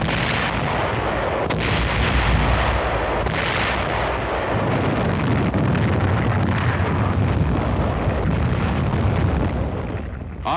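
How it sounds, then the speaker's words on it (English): Artillery fire on Okinawa in archival war film footage, supported by tanks: a dense, continuous roar of booming blasts and rumbling explosions, loud and unbroken, with no voices. "Artillery, supported by tanks, went to work on the enemy's defensive line."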